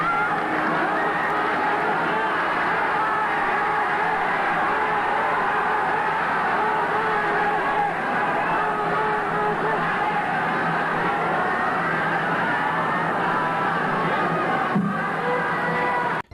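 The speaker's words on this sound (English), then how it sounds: "Before they even touched, the crowd is going nuts." A packed crowd at a Japanese professional wrestling show roars continuously before a match, a loud, dense wall of cheering and shouting voices that stays steady throughout, with one brief sharper burst near the end.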